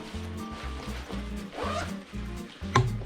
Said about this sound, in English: As we can see, there is a top zip for the hood.